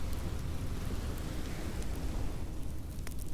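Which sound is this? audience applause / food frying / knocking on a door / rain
rain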